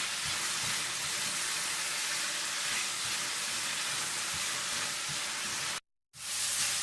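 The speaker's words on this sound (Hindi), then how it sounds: "और साथ ही आप डाल दें बादाम और किशमिश। और इन्हें भी आप थोड़ा सा भून लें।" Almonds and raisins fry in a pan for an Afghani pulao, giving a steady, dense sizzle with no talk, then a sudden brief dropout near the end before the frying resumes.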